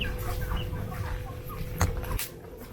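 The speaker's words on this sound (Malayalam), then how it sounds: "പല വെറൈറ്റി ഓഫ് കോഴികളെ നമുക്ക് കാണാൻ സാധിക്കും" Chickens of several varieties, some small, cluck softly at Haritha Bio Park farm in Kodanad against a steady low background hum, with a sharper click or knock near the end.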